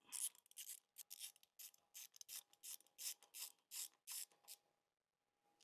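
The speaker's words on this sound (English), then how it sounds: "So I'll grab the nut with my wrench" A ratchet wrench loosens a nut on a Yamaha R125 motorcycle: about a dozen quick, close, quiet clicking bursts in an even rhythm, then a pause and one faint click at the end.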